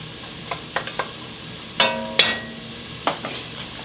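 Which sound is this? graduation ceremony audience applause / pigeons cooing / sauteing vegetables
sauteing vegetables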